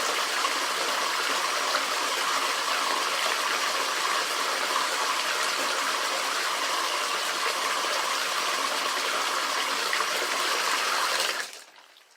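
Steady, loud running water like an open tap or shower pours without a break for about eleven seconds, then cuts off abruptly near the end, leaving silence.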